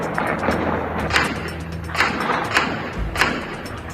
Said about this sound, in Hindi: ऐसे में बरादर ब्रिगेड ने जमकर आतिशबाजी भी की।